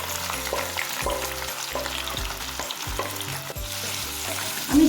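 Onion sizzles steadily in a pan with hot oil, cardamom and peppercorns for a Kashmiri mutton rogan josh, stirred now and then, giving a continuous close frying hiss with soft scraping and a louder clatter at the end.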